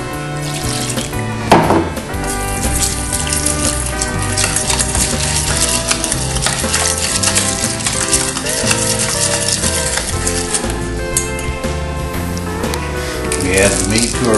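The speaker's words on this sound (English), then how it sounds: "And then we add the water." Water pours steadily into a mixing bowl of dry snack-stick ingredients, splashing continuously beneath busy background music for the whole stretch.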